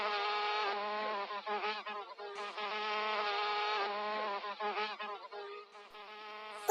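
A bee buzzes steadily as a story sound effect, a continuous close droning hum that wavers slightly in pitch and holds throughout without speech.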